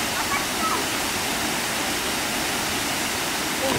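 A waterfall on Siquijor Island, Philippines, gives a continuous, loud, broadband rush of falling water that holds steady throughout, with no other sounds standing out.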